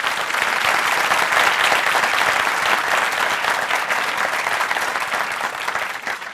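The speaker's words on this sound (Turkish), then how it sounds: "Bir alkışlayalım hanımefendiyi" A studio audience on a Turkish TV relationship-test show applauds a female guest, a dense, loud, steady round of clapping that lasts the whole stretch and fades slightly at the end.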